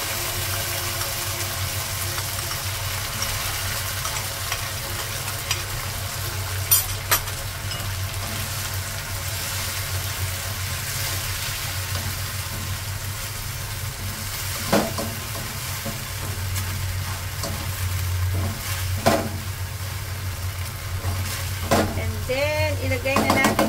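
Palabok sauce bubbling and being stirred in a pan, with a steady simmering sizzle and occasional scraping taps of the spoon, close and continuous, with no voices.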